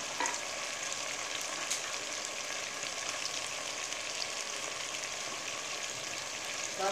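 Green chili paste sizzles and crackles steadily in a hot pan while cooking chicken tehari, a dense, even frying hiss holding close and continuous throughout with no talking.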